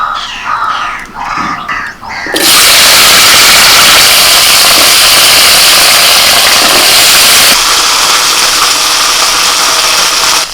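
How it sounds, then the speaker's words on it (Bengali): Vehicle traffic on a busy road roars past nearby, starting after a couple of quieter seconds and then holding as a loud, sustained engine rumble to the end. "এই গাড়ির আওয়াজ"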